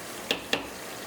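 Potatoes for a Spanish tortilla sizzle in oil in a frying pan while being stirred, a steady hiss with two quick scraping clicks of the utensil against the pan.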